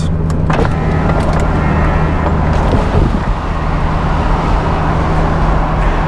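Porsche Boxster GTS cruising at about 30 mph with the roof operating, giving a steady, loud road and engine rumble with wind noise throughout and a brief mechanical whir near the middle.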